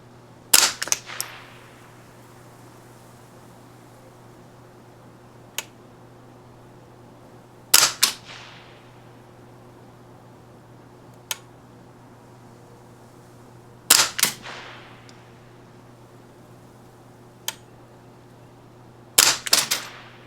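Ruger 10-22 rifle firing at a target during precision shooting outdoors: sharp single shots and quick pairs spaced several seconds apart, each with a short decaying echo, over a steady low hum, with no talking.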